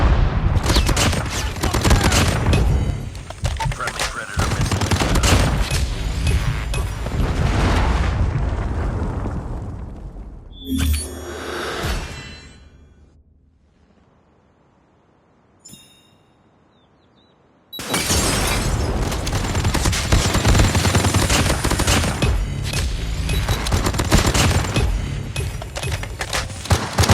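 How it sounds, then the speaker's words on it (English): Call of Duty Mobile ranked multiplayer match: a long roar of dense gunfire and explosions, broken by a near-silent lull with a brief blast, then a loud Predator missile strike and renewed heavy firing. "Friendly Predator missile inbound."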